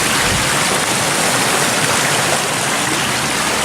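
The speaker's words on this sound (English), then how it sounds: "Oh, but look at the Atlantic Ocean." Atlantic Ocean water on the Tintagel coast in Cornwall gives a loud, continuous broadband rush like breaking surf or churning water, with no individual waves standing out.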